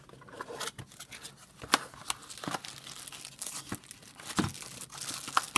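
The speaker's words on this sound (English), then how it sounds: "now let's open up the box" Cardboard product box for a massage stick being opened up close, with bursts of tearing, crinkling and scraping that come in irregular clusters, alone with no talk.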